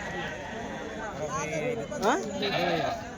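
Several male goat bleats, wavering and fairly close, rise over a busy background of people talking at a weekly goat market in Kadiri, India.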